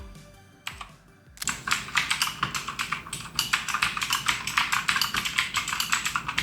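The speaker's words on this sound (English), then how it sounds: "This keyboard is really well made with a metal base, and the sounds that come from it is really nice." Rapid, crisp clacking from typing on a Keychron K2 mechanical keyboard with a metal base, with a brief pause before a steady run of close, evenly loud keystrokes.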